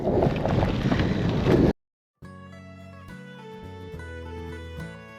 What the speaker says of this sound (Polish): Jedyny minus, że jadę na zachód, więc wieje mi w twarz.